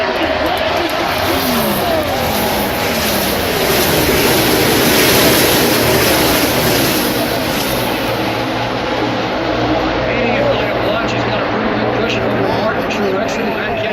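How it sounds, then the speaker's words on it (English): Race cars roar around the track at the 2017 Auto Club 400. The loud, continuous engine noise swells and fades as the pack passes, with a commentator talking over it. "Side by side for that fifth position up the back straightaway as they make their way into turn 3"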